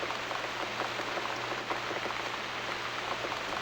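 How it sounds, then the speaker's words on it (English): Steady rain patters and hisses evenly throughout in the video game Downfall, with no voices and no change in intensity. "It's raining blood, Joe."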